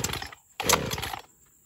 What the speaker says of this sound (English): I got a few trees I'm gonna have to cut, and I'm gonna use the old Craftsman chainsaw.